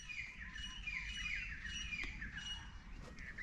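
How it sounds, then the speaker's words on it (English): Bird at an orchid nursery in Hawaii, singing in a quick run of bright chirps and trills outdoors over a soft background hiss. "how's that bird? You hear him?"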